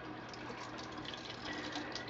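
Water from an Enagic machine runs into a cup as a steady, faint, continuous gushing trickle throughout, with no talking.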